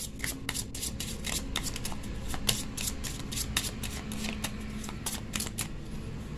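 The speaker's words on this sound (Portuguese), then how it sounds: "começar a abrir as cartas do baralho cigano" A Cigano Lenormand card deck is shuffled and handled close by, giving a steady run of quick, crisp riffling flicks and soft paper slaps, with no talking.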